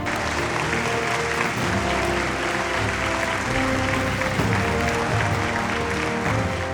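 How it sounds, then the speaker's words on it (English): Sustained applause from a corporate awards audience at a workplace recognition event honouring Phenom, steady and dense throughout with music or room tones faintly underneath. "Ladies and gentlemen, round of applause for Phenom."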